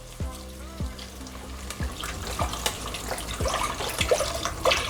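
Liquid, about two cups, being poured into a cooking pot of string beans and potatoes, making a splashing trickle with a few sharp knocks, close and moderate in volume.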